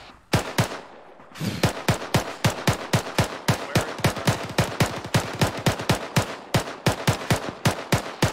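Rapid bursts of rifle and machine-gun fire from an ArmA 3 platoon firefight, sharp close shots in a steady rhythm after a brief pause, loud and continuous.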